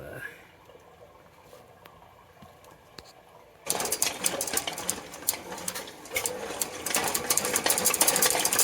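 Faint clicking and rustling give way to a loud, busy mechanical clatter as a drain cleaning machine slaps water in a pipe, continuing and growing slightly stronger toward the end.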